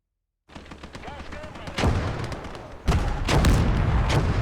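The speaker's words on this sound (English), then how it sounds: "Engineer furiously digging while bullets whiz past" Gunfire and bullet cracks in the WWII strategy game Gates of Hell, with dense bursts and booming impacts growing louder after a lull, a steady battlefield din under an engineer digging in.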